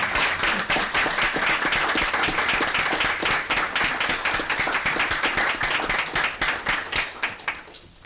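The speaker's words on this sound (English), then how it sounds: "we'd like to give you another round of applause." Sustained audience applause at a village board meeting, dense and steady for about seven seconds, thinning out and fading near the end.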